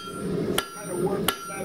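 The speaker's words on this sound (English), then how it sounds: "Hammer meeting metal." A blacksmith's hammer strikes hot iron in a workshop, two sharp ringing blows about a second apart over a steady background hum.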